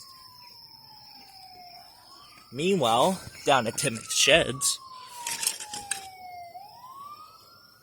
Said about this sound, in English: why do I hear sirens?